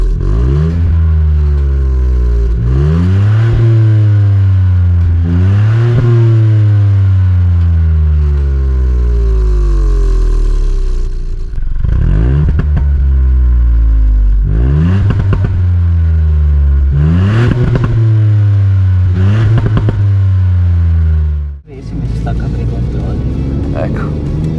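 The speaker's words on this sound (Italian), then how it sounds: "Si apre la valvola sullo scarico. Molto bene. Quindi è anche un po' più rumoroso." A Ford Fiesta ST Mk8 three-cylinder engine with its exhaust valve open accelerates hard through several gears, rising and dropping in pitch at each shift, loud and close with talking over it.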